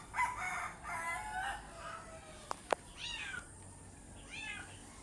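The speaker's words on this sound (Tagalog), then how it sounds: "Ang ingay guys ng alaga nilang pusa." A cat meows several times with drawn-out, rising and falling cries, while a rooster crows in the background; fairly close, no talking.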